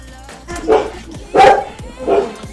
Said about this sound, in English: my dog barked and the door opened at the same time